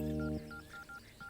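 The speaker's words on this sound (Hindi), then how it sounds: "पांडे को फोन लगाता हूँ, उसे बोलता हूँ कि गाड़ी यहाँ पर लेकर आ जाए।" A mobile phone is dialed to place a call, producing a run of short electronic keypad tones in quick irregular succession after a brief sustained tone, clear and close.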